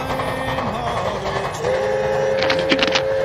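A train rolling along its rails, a steady rumbling ride with a rising tone partway through and a cluster of brief higher squeals or whistle-like bursts near the end, continuous and fairly close.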